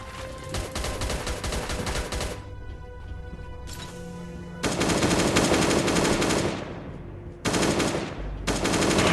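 Automatic gunfire in the survival game Last Day on Earth, loud sustained machine-gun bursts that break off briefly and resume, with no voices over it.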